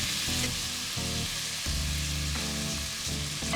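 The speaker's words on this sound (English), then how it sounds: "it starts off by cooking the onions and red pepper, salting, peppering, and stirring around for a little bit" Onions and red pepper fry in a pan while being stirred, a steady bright sizzle close up with low scraping and clattering of the stirring utensil beneath it, no voices.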